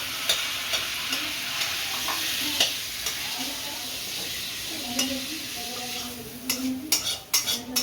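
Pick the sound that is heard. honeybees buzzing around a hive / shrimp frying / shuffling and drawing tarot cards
shrimp frying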